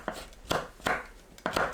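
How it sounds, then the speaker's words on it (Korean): Knife chopping spring onions on a cutting board, four distinct thudding cuts at uneven intervals, close and clear, with no voices. "파를 작게 썰어줍니다."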